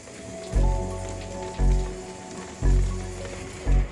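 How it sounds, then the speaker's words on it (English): Heavy rain falls steadily in the mountains near La Robla, Spain, as a continuous loud wash, with deep booming swells recurring about once a second. "Heavy rain was rolling in."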